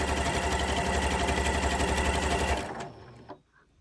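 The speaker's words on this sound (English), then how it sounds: "Try to keep it nice and even just as we sew down." A Janome Continental M6 sewing machine stitches steadily along fabric for about two and a half seconds with a dense, even motor whir, then stops, leaving a faint mechanical click and near silence.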